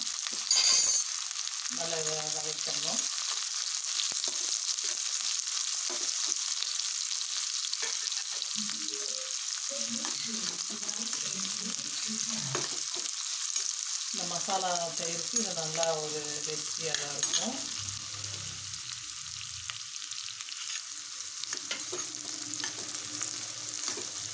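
Small onions and cumin frying in a pan for spiced masala curd, a steady sizzle throughout with occasional stirring, and a voice talking over parts of it.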